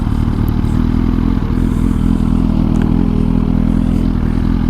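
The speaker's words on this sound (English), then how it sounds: "Oh, I hear another motorcycle coming up." A motorcycle engine runs steadily and loudly close by, a dense low drone with a constant throbbing pulse and faint rattling, holding level for several seconds without clear rise or fall.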